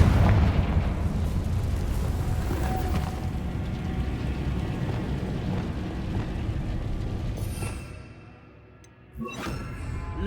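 Confringo fire spell in Hogwarts Legacy, a loud explosive burst that opens into a long roaring, rumbling fire tail, fading out near the end before a brief quieter whoosh and pop.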